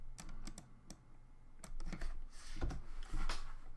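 Quick bursts of typing on a computer keyboard while code is written, with irregular clusters of key clicks, some louder strikes near the end, close and alone.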